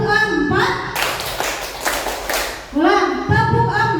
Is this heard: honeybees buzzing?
no